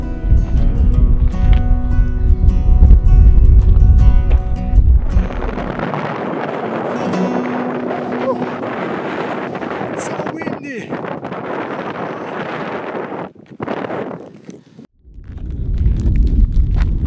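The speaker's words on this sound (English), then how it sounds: "It's a little bit windy" Strong wind buffets the microphone in loud, roaring gusts on a mountain ridge, then eases into a steady rushing blow across open ground.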